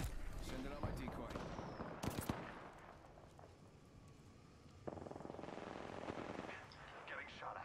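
Rapid bursts of gunfire in the Apex Legends video game, automatic fire rattling in quick volleys mixed with game effects and in-game voice lines, loudest early then continuing in lighter clusters.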